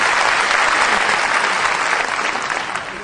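Audience at a Hindi comedy poetry show breaking into loud applause, dense close clapping that holds steady and then begins to fade near the end.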